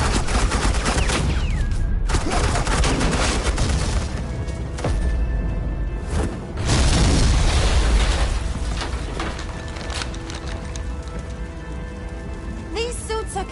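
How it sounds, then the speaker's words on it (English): Suppressing gunfire in the video game Batman The Enemy Within: a dense, continuous crackle of rapid shots that roars steadily and loudly for several seconds, with a brief dip partway through. "Suppressing fire."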